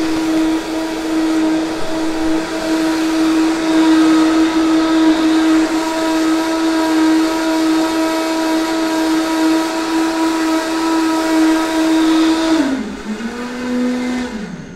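A blender whirs at high speed through a thick mushroom cream, a loud steady motor whine that holds for a long stretch before dropping in pitch as the speed is turned down near the end.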